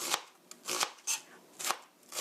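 A knife slices an onion thinly on a cutting board, giving five crisp, close chops at an uneven, quick pace with short pauses between them.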